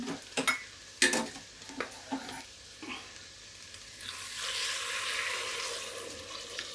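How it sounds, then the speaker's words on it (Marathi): Hot water poured into a pan of sautéed pav bhaji vegetables with beetroot, a steady rushing sizzle building after a few sharp clanks of utensils, close and fairly quiet. "आता घालूया गरम पाणी"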